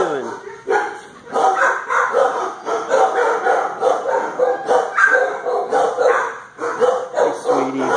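Several dogs bark and yip continuously in a noisy animal shelter, sharp overlapping barks echoing in an enclosed space, with people talking faintly underneath.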